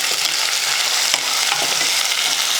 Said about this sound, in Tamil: சேர்த்து அந்த எண்ணெயில் லைட்டாக பொரிய விட்டுட்டு இப்போ வெங்காயம் சேர்த்துக்கலாம்.